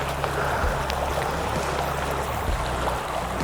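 A small creek flows over stones as a steady close babble of water, with faint low rumble underneath and brief splashy ticks scattered through.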